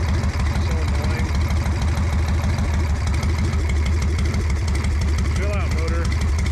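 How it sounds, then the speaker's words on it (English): Ironhead-era Harley motorcycle engine, warmed up and smoking, idling roughly and unevenly up close, with a steady uneven chugging pulse; someone talks over it. "I can't get this thing to idle."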